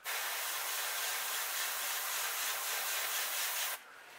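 A steady hiss of airbrush spray paint on a crankbait fishing lure's eyes, close and continuous for about four seconds before cutting off abruptly.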